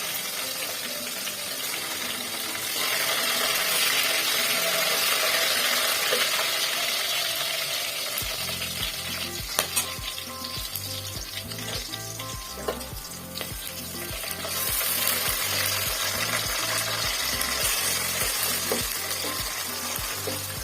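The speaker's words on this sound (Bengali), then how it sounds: "তেজপাতা দিয়ে দিলাম গরম মশলাগুলো দিয়ে দিলাম" Bay leaves and garam masala sizzle in hot oil in a pan for beef with cabbage, a loud continuous frying hiss that surges, joined midway by a low rhythmic mechanical hum beneath the crackle.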